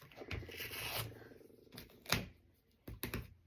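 Scissors snipping through pieces of duct tape, a few close, crisp rasping cuts with sharp snaps and brief pauses between them.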